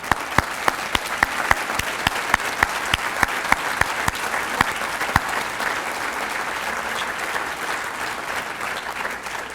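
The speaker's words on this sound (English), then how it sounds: "I would ask you to stand so we can applaud you." An auditorium audience applauds scholarship recipients at a school district event, a sustained wash of many hands with a few sharp nearby claps standing out early, steady and full for nearly ten seconds.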